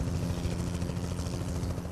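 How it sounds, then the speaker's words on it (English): A helicopter flies in American Truck Simulator, a continuous low, throbbing rotor and engine drone that stays steady and fairly loud throughout, with no talking. "Now I hear a helicopter"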